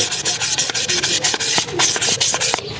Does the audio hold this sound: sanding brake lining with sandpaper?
yes